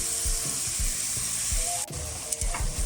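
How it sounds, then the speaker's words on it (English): Italian sausage sautés in a pan for a pork stew, with a steady soft sizzle under repeated low clunks and scrapes of a utensil against the pan, close and without talking. "Now we're gonna add some Italian sausage to this. Let that saute for a bit."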